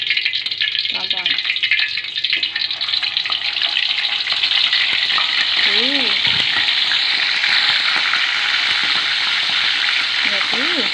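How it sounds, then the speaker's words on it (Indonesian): Boiled chicken pieces frying in a pan for chicken curry give a loud, steady crackling sizzle that runs the whole time, with a few brief voices over it. "Karena ayamnya udah selesai direbus, waktunya goreng sekarang."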